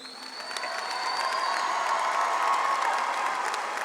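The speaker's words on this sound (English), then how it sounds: "A round of applause for all of these graduates" An audience at a summer 2019 LSU commencement applauds the graduating class, building quickly into broad, sustained clapping mixed with a few cheers and whoops from across a large hall.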